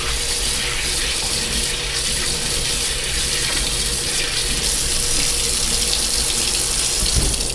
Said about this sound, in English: I'm going to rinse out the ash out of it.